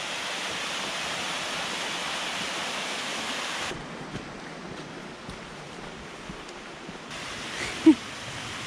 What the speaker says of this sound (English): Waterfall just shooting down there.